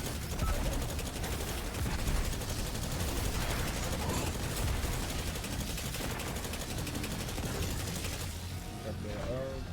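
Rapid gunfire from a video game firefight plays loud and sustained throughout, dense bursts overlapping with mechanical clicks, continuing to near the end.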